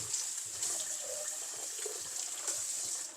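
Tap water runs steadily from a faucet as rooted plant cuttings are rinsed, a continuous soft hiss and splash heard alone at moderate distance.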